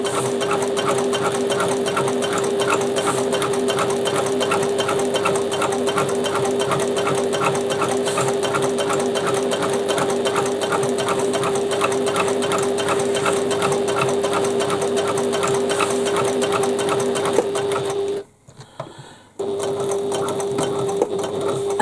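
A sewing machine runs steadily for about eighteen seconds, basting bag fabric in a rapid, even stitching rhythm. It stops briefly, then starts up again near the end. No one speaks.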